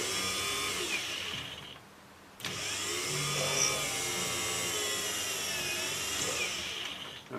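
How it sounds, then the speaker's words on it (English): A center drill pecking into metal on a lathe, a steady whirring cutting whine that breaks off briefly near two seconds and then resumes, fairly quiet and alone. "I always use a pecking motion. It's just not worth snapping the center drill off"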